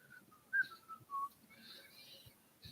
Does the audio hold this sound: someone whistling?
yes